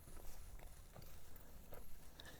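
A halter-broke young horse walks with a steady clip-clop of hooves, evenly spaced soft thuds at moderate distance over a constant background hiss.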